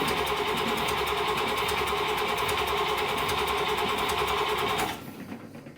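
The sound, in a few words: Buick Nailhead engine of vintage dragster running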